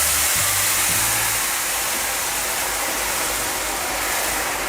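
Hot water is poured into roasted lapshi (broken wheat) in a pan on the stove, giving a loud, steady hiss and sizzle that lasts the whole time with no talking.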